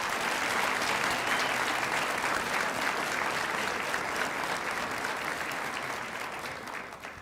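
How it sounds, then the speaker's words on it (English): A luncheon audience at a girls and women in sports event applauds a departing colleague, dense sustained clapping that holds steady before tapering off at the close. "Big round of applause for Sue."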